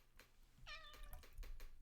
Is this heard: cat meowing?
yes